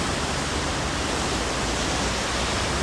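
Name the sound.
floodwater raging through Gatlinburg from remnants of Fred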